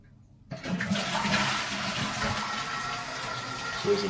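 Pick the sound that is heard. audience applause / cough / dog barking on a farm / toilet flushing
toilet flushing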